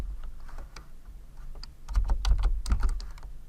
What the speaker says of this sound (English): Notice here I'm typing